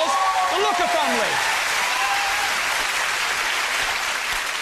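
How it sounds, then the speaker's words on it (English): A studio audience on a family game show breaks into loud, sustained applause, with a host's voice briefly over the start before the clapping carries on alone. "Give a big round of applause."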